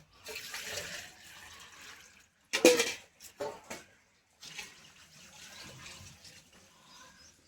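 Water poured from a mug into a pot of rice on low-to-medium heat for egg pulao, in splashing bursts: a steady pour, a loud splash near the middle, a short pause, then another stretch of pouring.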